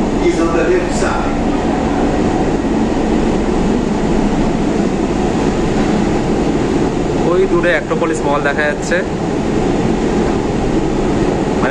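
Kolkata East-West Metro train running between New Garia and Ruby, a steady loud rumble and air-conditioning hum throughout with a brief squeal near the end, someone talking over it.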